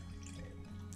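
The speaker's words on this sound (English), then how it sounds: "we're going to go ahead and put our water in here" Water poured into a snow globe during a repair of a Disney Lady and the Tramp "Bella Notte" globe, a steady close trickle and drip filling the glass for about a second with no talk.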